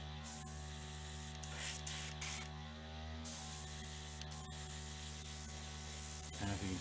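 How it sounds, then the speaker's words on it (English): A small airbrush compressor hums steadily beneath a hissing spray of paint onto canvas, with brief clicks and bursts of air as the trigger is worked. "this is the little compressor. Turn that on. I'm just going to spray."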